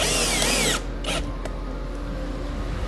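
A power drill whirs loudly and close as it drives screws into a tea and sweets table stand, then stops, followed by a few short mechanical knocks.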